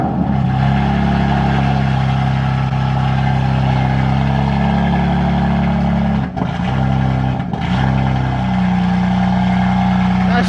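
A modified BMW M3 with a very loud exhaust starts up and settles into a steady, booming idle, close and dominant throughout.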